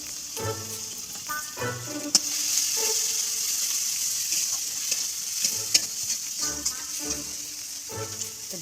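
Bay leaf and ginger paste fry in oil in a village-style kitchen, a steady hiss of sizzling with repeated stirring scrapes and a couple of sharp clinks of a utensil against the pan.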